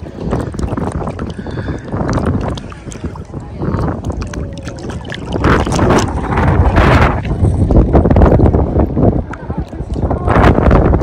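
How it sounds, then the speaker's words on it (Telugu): Strong wind buffets a microphone outdoors in Iceland, loud rumbling gusts that swell and drop unevenly and build toward the end, with a person speaking faintly underneath. "విండ్ రాకుండా కొంచెం ఏదో తనలాడుతున్నాను, సౌండ్ డిస్టర్బెన్స్ లేకుండా ఉండడానికి"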